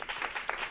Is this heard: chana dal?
no